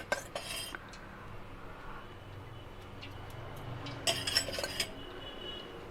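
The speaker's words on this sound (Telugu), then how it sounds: "కళాయి పెట్టుకొని" A metal kadai clatters onto a stove with a few sharp clinks and scrapes, the loudest burst near the end over a low background hum; no one speaks.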